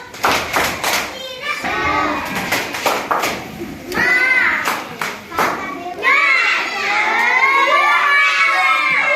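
Schoolchildren in a classroom clap a rhythmic chant in sharp bursts, then break into loud overlapping shouting and cheering, voices close and energetic.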